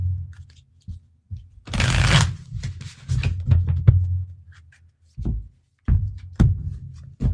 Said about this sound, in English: Oops, sorry. Sorry for the shuffling.